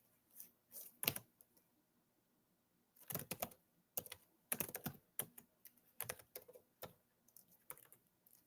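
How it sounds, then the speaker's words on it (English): Keys clatter on a computer keyboard at a home streaming desk in quick, close bursts of typing separated by short pauses, with no one speaking. "If I can type."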